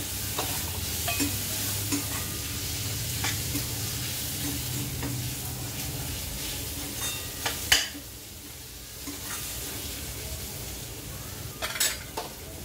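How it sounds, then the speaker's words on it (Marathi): Onion, garlic and coconut sauté in a hot pan with a steady soft sizzle, a spoon scraping and clinking against the pan a few times, and a sharp knock as a tomato goes in. "कांदा छान परतलाय, लसूण आणि खोबरं पण छान परतलंय। घालूया एक टोमॅटो"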